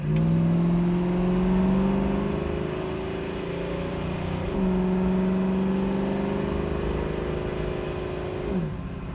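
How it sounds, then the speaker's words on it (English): A 1968 Chevrolet Camaro SS, heard from inside the cabin with the windows up, accelerates on the road, its engine note climbing steadily through two gear changes as a continuous loud drone. "Give it a little bit of gas."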